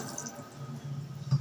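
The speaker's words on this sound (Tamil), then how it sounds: "இதுக்கு 3 கப் அளவுக்கு தண்ணி நான் சேர்க்குறேன்." Water poured from a cup into a pot of rice and dal being prepared for dal rice, a soft continuous trickling and splashing with a brief louder splash near the end, close by.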